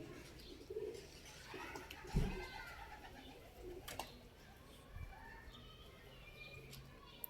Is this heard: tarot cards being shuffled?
no